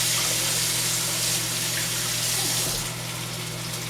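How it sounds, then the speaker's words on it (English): A bowl is rinsed under a running kitchen tap, producing a close, loud and steady rush of water that carries on without a break and eases slightly near the end. "We're going to rinse the bowl."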